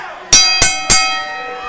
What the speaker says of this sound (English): referee Sparky Ballard has called for the bell